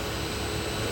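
A 3HP industrial bench polisher motor running faster on a VFD gives a brief burst of loud, steady, rushing whir.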